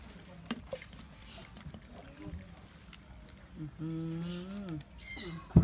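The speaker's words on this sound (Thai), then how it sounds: "เทน้ำปลาใส่เด้อพี่น้อง เทน้ำปลา" Fish sauce is poured over garlic and lemongrass while rice-field crabs are being pickled, giving a light, brief trickle under a voice and some background bird calls.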